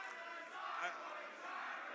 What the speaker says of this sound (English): Listen to the crowd there behind Starboy Charlie